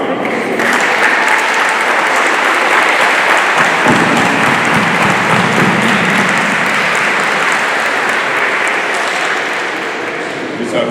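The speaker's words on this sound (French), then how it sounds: "Alors on applaudit pour les parents." Sustained applause from a church congregation at a Sunday profession-of-faith mass, honouring the parents: a dense, steady wash of many hands clapping that fills the room for about ten seconds and eases slightly at the end.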